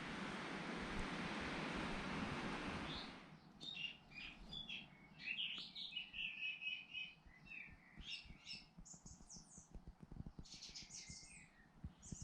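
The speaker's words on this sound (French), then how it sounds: "Écoutez-moi ce chant des oiseaux." Birds sing at dawn around a solo bivouac camp, with many chirps and short trills scattered near and far after an opening stretch of steady broadband noise.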